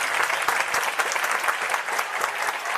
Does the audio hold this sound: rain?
no